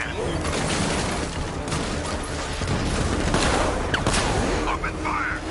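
Dense, continuous automatic gunfire from a Batman video game car chase, rapid overlapping bursts and booms filling the whole stretch, with shouted voices mixed in among the shooting.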